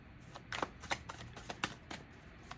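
Tarot cards are shuffled to draw a clarifier card, giving a run of close, crisp riffling swishes in irregular bursts over a quiet background.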